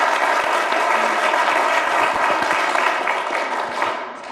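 Applause from an audience at a street hypnosis show, dense clapping that starts loud and thins out slightly toward the end, with faint crowd noise underneath.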